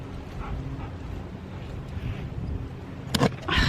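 Dogs bark outdoors in dusty, windy conditions, with a few short, sharp barks near the end over a steady low rumble of wind.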